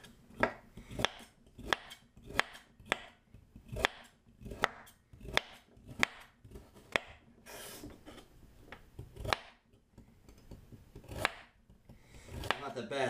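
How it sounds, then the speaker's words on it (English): A knife finely chops carrots on a cutting board, a steady series of crisp close-up thuds at an even, unhurried rhythm, later becoming looser scraping and tapping. "Now we're going to finely chop the carrots."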